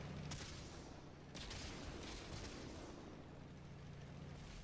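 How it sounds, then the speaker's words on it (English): Cannon fire from allied tanks in the World of Tanks video game: a couple of sharp, booming shots ring out over a dense, steady rumble of battle noise. "Don't really get the point of your own teammates shooting at you"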